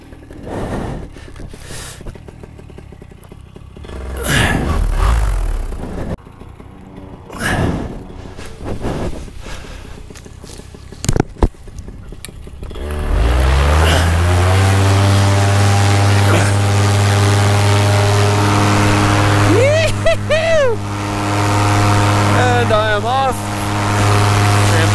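A paramotor engine roars up to full throttle for launch, loud and steady, after scattered thumps and rustling, with a pitch that swells and wavers later on.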